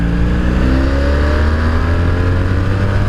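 A 1984 Honda V65 Sabre VF1100S motorcycle engine revs loudly and continuously up close, the heavy classic bike's rising whine held for several seconds with no speech.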